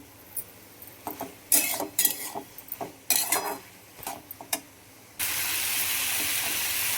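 Tomato with tender coriander stems dry-roasting in a pan, close metallic scrapes and clatters of a spatula stirring in bursts, then a loud steady hiss of steam and sizzle that holds to the end.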